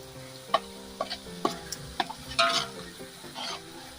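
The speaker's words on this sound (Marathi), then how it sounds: "आता आपण हिंग टाकून घेतलंय." Asafoetida (hing) sizzles as it drops into hot oil in a home kitchen, a soft crackle with a few brief sharp bursts and light clinks of utensils, with no talking.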